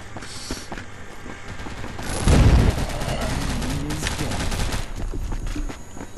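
A minigun in a video game fires in a sustained rattling burst that peaks with a heavy thump, followed by continuous rapid fire and mechanical whirring, fairly close and loud.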